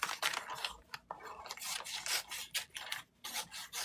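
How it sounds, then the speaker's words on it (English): Scissors rough-cutting through quilting fabric for a sew-along layout, a run of crisp, rasping snips with short pauses between strokes, close and clear with no talking. "So I'm just going to rough cut that out."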